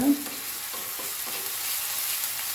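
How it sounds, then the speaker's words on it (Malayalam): Chopped onion sautéing in a pan, a close, even sizzle with soft stirring scrapes throughout, fairly loud and steady, with no talking. "ഒരു ചെറിയ സവാളയാണ് എടുത്തത് ഇത് നമുക്കൊന്ന് മൂപ്പിക്കാം"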